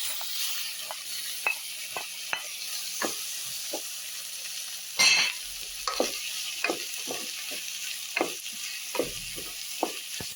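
Onions and two medium tomatoes sauté in a pan for a black chickpea curry, a soft continuous sizzle with frequent crisp utensil scrapes at irregular intervals and one louder clatter midway.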